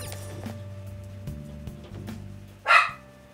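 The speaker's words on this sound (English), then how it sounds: "I can't deal with my dogs barking the whole time." A short, loud dog bark rings out near the end, following a stretch of quiet hum and faint clicks with no one speaking.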